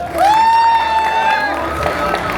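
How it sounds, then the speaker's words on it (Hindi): At a bodybuilding show, a loud sustained whoop rises from the audience for a bodybuilder on stage, with crowd noise beneath it. "भाई के लिए तालियां तो बजा लो।"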